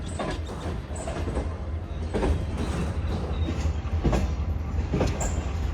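The Shah Hussain Express, pulled by a locomotive, runs just after leaving Khanewal, a steady loud rumble of wheels with rhythmic clickety-clack over rail joints and faint squeals, heard from inside the coach.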